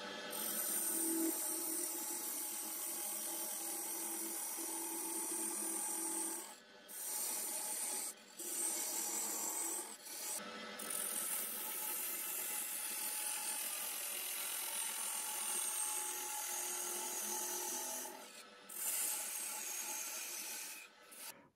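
A large hand saw cuts a turned wooden cylinder to length in a woodworking shop. The rasping strokes are steady and loud, with a few short pauses between runs of sawing.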